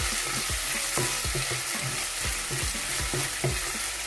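Tomato pieces sizzle in a pan with ginger garlic paste for a chole masala curry, a steady close frying hiss broken by repeated scraping stirs.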